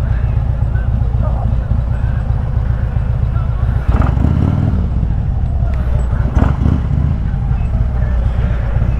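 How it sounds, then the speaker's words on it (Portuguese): A motorcycle idles nearby with a steady low engine rumble while being parked on arrival at an inn, with a couple of brief louder revs or bumps partway through and voices faintly present. "Desce aí só pra estacionar a moto mais fácil."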